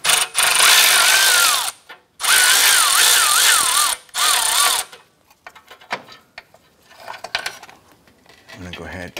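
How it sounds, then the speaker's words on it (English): Loud, sustained whirring bursts of a tool backing out a heat shield bolt beneath the motor mount of a 2004-2008 Acura TL, three runs in a row with short gaps, followed by quieter metallic clinks and handling. "we're gonna remove this bolt from the heat shield"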